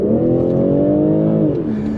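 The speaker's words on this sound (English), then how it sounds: "This thing sounds pretty good on the just revving and getting some downshift, those crackles." A stock-exhaust BMW M40i revs up, holding a loud, rising engine note that then drops and falls away as it downshifts, all heard close up.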